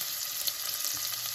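Onion sizzling steadily in a pan over medium-high heat on a stove, ahead of chicken livers, a continuous close hiss with no pauses or talk.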